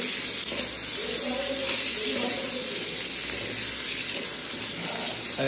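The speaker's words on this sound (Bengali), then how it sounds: "এখানে বেগুন ভাজাটা করছি" Eggplant slices frying in hot oil give a steady, even hiss of sizzling, with a faint voice in the background.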